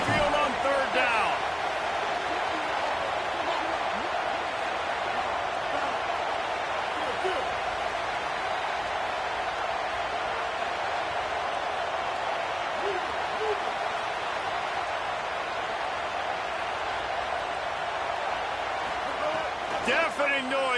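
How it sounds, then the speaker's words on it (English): A stadium crowd at an Alabama–Texas A&M football game roars loudly on third down at Saban Field, a dense, steady wall of noise lasting throughout with brief sharper bursts. "The Tide crowd rolling noise down on the Saban field on 3rd down"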